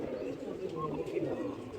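Pigeons cooing in a large flock of more than a hundred kept birds, a steady low murmuring coo that runs continuously at moderate level through the whole stretch.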